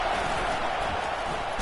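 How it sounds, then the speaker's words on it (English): A stadium crowd roars steadily in support of the defense on a big third down at a college football game between Alabama and NC State, a loud, continuous wash of cheering that fills the whole moment. "Big third down as the crowd gets behind this defense."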